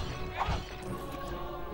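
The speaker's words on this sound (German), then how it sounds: "Aus der zerbrochenen Urne purzelt Lyrans ausgetrocknete Hand" A clay urn smashes in the video game Baldur's Gate: Dark Alliance 2, a short crash over a busy, steady bed of game sound and music.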